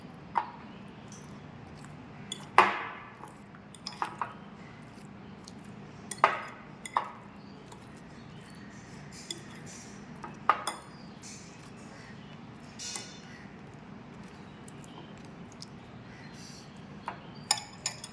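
Fruit salad being tossed in a bowl, with a spoon giving scattered clinks and knocks against the dish, quiet and intermittent against a soft room background.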